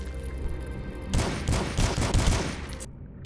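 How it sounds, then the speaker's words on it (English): A machine gun firing in the retro shooter game Dusk, a loud close burst of rapid shots kicking in after a second over a low droning background and cutting off abruptly just before the end. "Machine gun."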